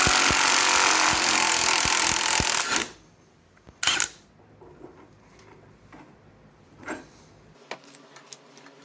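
A puller removes the spindle from a Dana 44 axle: a loud, dense mechanical whirring and grinding runs steadily for about three seconds, then gives way to a few separate sharp knocks and clanks amid quiet.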